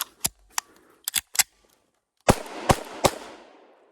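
Özkursan 9mm P.A.K. blank cartridges fired from a Blow Magnum blank pistol: a quick series of sharp, loud cracks, first several spaced shots, then a pause and three closer reports with a lingering noisy tail.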